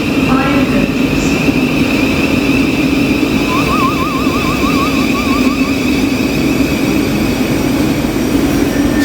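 A train at Islington railway station gives a loud, continuous rumble with a steady motor drone and a high whine, a warbling electronic tone rising briefly above it, no talking.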